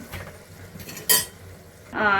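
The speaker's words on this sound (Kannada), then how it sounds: "ಸ್ವಲ್ಪ ಪಾತ್ರೆ ಇದೆ ತೊಳ್ಕೊತೀನಿ" Dishes and pots being washed in a kitchen, with close metallic clinks and a scrape, then running water at the end.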